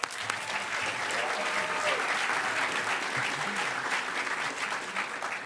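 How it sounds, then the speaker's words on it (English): Audience at a hacker convention closing ceremony applauds steadily, a dense even wash of clapping throughout, moderately loud with no voices on top. "Give him a round of applause."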